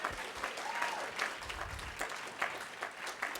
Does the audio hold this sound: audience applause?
yes